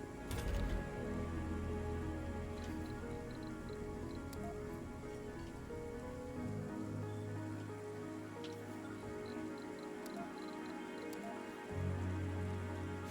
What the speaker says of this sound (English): I think this is the acid rain.